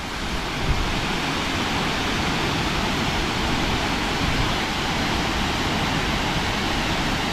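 Rainbow Falls waterfall in Gorges State Park heard in winter, a dense, steady rushing roar of falling water, close and constant with no voices.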